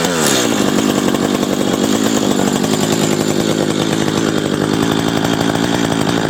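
An Echo CS-590 Timberwolf chainsaw runs continuously at a high, buzzing pitch during carburetor adjustment, loud and close with no pauses.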